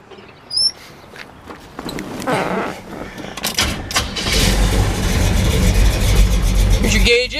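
A 1970 Chevrolet Chevelle Sport Coupe with headers cranks over and catches, building into a loud, rumbling idle with a low, uneven throb, preceded by a few clunks and shuffling sounds nearby.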